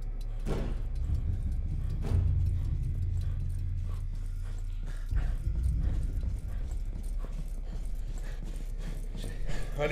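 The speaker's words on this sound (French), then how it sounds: "on veut une reverb sur les bruits de pas" Footsteps with added reverb, an uneven series of hollow, echoing clip-clop steps over a low rumbling background, fairly close and loud throughout.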